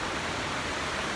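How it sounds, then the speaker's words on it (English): A small brook flowing near a pond, giving a steady, close broadband wash of running water throughout with no voices. "It's like a little brook here."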